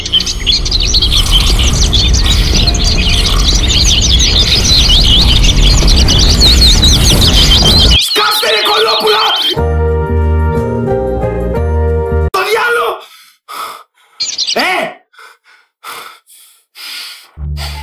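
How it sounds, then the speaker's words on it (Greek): Birds chirp and twitter loudly and densely in the morning for several seconds, then the sound gives way to music and breathy vocal sounds with gaps of near silence. "Συνήθως αφού ηρεμήσουν τα πουλιά"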